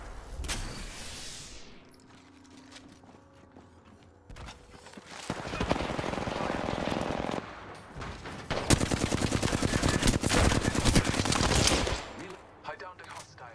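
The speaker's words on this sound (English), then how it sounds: "The enemies are shooting at me" Enemy gunfire in the video game Apex Legends, scattered shots giving way to long loud bursts of rapid automatic fire, close and sustained, with brief quieter gaps between volleys.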